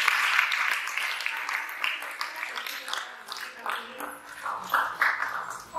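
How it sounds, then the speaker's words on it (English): Applause from a church congregation at a Sunday service, a moderate, steady patter of clapping that rises and falls over several seconds and carries a speech-like texture mixed in. "Continue clapping."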